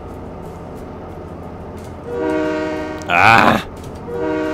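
Game train horn from Train Mechanic Simulator 2017, a loud harmonic blast sounding around the middle of the clip over steady locomotive rumble, with a brief shouted voice nearby.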